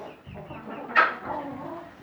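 Backyard hobby-flock chickens cluck softly close by, with one sharper squawk in the middle of a brief, quiet stretch.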